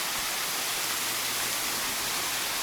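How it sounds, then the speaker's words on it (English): A waterfall in the Springbrook National Park rainforest, a steady, dense rushing roar of falling water that fills the whole moment without a break. "So that's another waterfall here, a little bit more dense with everything"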